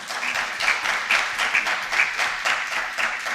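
Audience applause, close and fairly loud, with distinct pulsing claps in a loose rhythm that carries on steadily throughout.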